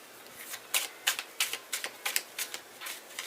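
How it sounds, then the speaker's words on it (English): A deck of tarot cards being shuffled in a series of crisp riffling flicks and soft taps, quiet and close, with no talking. "Alright, 3 shuffles."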